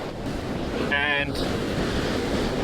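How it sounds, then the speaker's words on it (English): Strong beach wind roars steadily against the microphone at around 20 miles an hour, a constant buffeting rush with surf beneath and a brief spoken word. "Still super windy. It's blowing like 20 miles an hour now"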